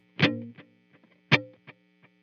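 Electric guitar played through a subtle delay pedal set to one repeat with reverb off; two plucked notes ring out a second apart, each followed by a single faint echo.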